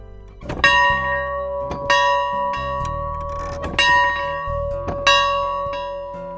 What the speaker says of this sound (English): he would come ring the farm bell